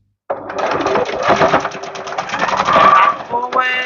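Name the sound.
sewing machine stitching fabric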